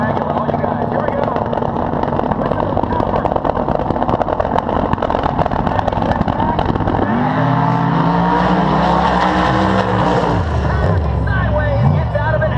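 Race car engines roar loud and continuous at a concrete track event, with tire squeal and shifting pitch as a car slides sideways and powers to the finish; an announcer's voice runs over the engine noise.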